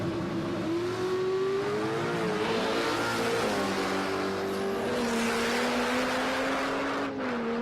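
Drag race cars at Palmyra Raceway, an R34 Skyline and a turbocharged Barra, launch and run down the strip, with a loud sustained engine roar and rising and falling pitch as they pull through the gears.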